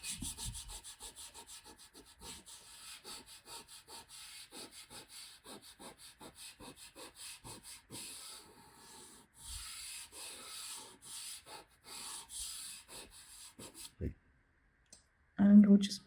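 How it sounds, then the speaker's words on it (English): Pastel rubbed into paper by hand, a close, soft, repeated scrubbing that gets quieter and more scattered toward the end, followed by a few louder bumps. "Rubbing it in."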